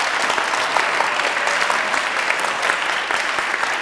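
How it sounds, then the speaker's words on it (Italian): A large crowd applauds loudly and steadily, dense clapping filling the whole stretch without pause. "quindi un applauso."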